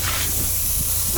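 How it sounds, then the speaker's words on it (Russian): A truck's air pipe hissing in hard frost, giving a loud, steady, broadband hiss that holds constant through the whole moment. "Шипит какая-то трубка"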